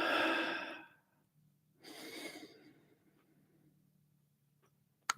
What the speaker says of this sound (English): Let's take a breath here for a moment.